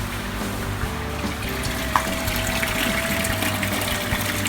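Water drains and trickles steadily out of a strainer of perlite grow medium soaked in hydrogen peroxide solution, a continuous wet running and dripping noise with a faint hum underneath and no talking.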